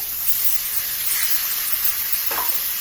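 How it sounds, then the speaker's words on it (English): A steak sears in a hot pan with a loud, continuous, even hiss close by, and a faint scrape as it is turned. "let's flip this steak and check out the sear"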